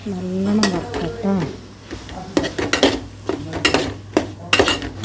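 Mussels fried in a pan with chilli powder and tomato, a utensil stirring and scraping against the metal in bursts of clatter and a soft sizzle. A voice-like tone sounds briefly at the start.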